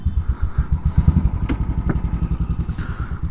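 A Royal Enfield motorcycle's single-cylinder engine idles close by with a loud, steady thumping beat and faint metallic clatter, no talking over it.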